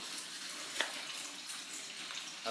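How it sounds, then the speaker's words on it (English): Motor oil drains from the engine of a BMW 1 Series (2013–2020) during an oil change, a faint, continuous trickling gush with a couple of small splashes, no voices. "Oil is draining nicely"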